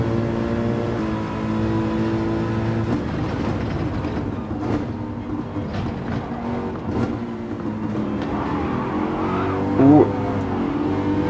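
An Aston Martin race car in Gran Turismo 7 drives with a sustained engine tone that shifts pitch through gear changes across the lap, moderately loud, with brief bursts of other noise.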